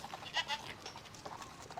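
Goats bleat faintly a few times against a dim, noisy background.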